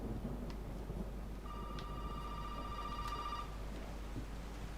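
A telephone rings inside the Resident Evil 7 horror game: a steady electronic ring with a clear tone lasting a couple of seconds over a dark, rumbling ambient background, no talk.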